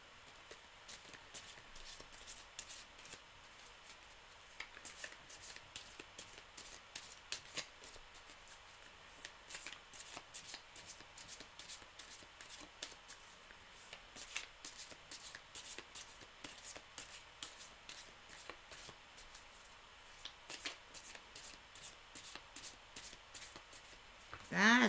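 Oracle cards being shuffled by hand in a quiet room, a long run of soft rapid riffling clicks and slaps that stay close and steady throughout.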